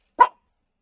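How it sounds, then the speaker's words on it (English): A dog gives a single short, sharp bark, quite close and loud, followed by silence. "Sorry for the dog jumps here in the background."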